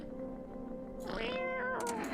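A house cat meows twice in quick succession, close and clear, the second call rising and breaking, over a low steady background hum.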